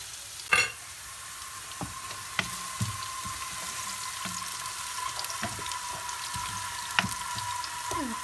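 Carrots and onions sauté in olive oil in a pan, a soft continuous sizzle broken by scattered utensil scrapes and knocks, with one sharper clank near the start, heard close and moderately quiet without speech.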